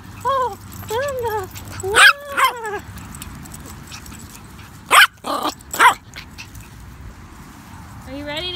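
A puppy barks in short yips and whimpers, several bursts spread across the clip at close range, with someone speaking softly to it in between.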